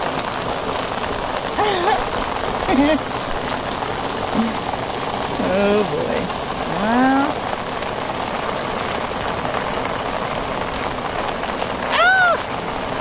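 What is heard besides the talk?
hail falling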